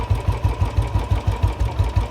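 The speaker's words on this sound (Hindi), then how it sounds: "ये इसका इंजन नॉइस है" A Royal Enfield Standard 350 motorcycle idles up close with a loud, even thump-thump beat, about five pulses per second, with no one speaking.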